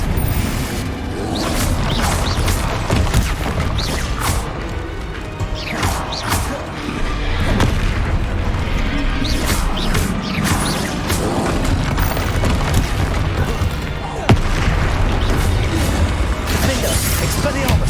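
Spell explosions from Bombarda and Confringo crash and boom repeatedly amid magical whooshes and combat effects in the video game Hogwarts Legacy, a dense, loud barrage with bursts every second or two and shouted spell names in between.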